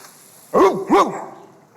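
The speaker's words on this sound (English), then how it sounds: "I hear a dog barking." A dog barks twice in quick succession at a live dramatized literature stage performance, the two sharp, fairly loud barks standing alone over a quiet background.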